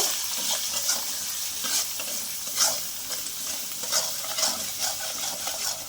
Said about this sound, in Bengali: লঙ্কা গুঁড়ো, ফের একটু ভালো করে নেড়ে নেব।